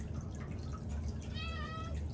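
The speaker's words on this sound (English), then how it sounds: "You had to let another cat on the porch." A charcoal lynx cat lets out a single faint, short meow on a porch, barely rising above a steady hum of background noise.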